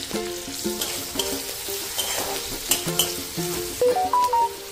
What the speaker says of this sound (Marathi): तेल गरम केले, त्याच्यात हे टाकले, मोहरी आणि जिरं टाकले. गरम झाले, त्याच्यात कांदा आणि टोमॅटो